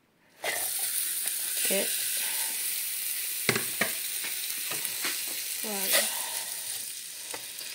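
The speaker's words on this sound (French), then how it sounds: "On va verser notre oignon, ail, poivron et gingembre." Chopped onion, garlic, bell pepper and ginger hit hot oil in a pan and settle into a steady close sizzle, broken by scraping stirs and clinks of a utensil, with a few brief spoken words.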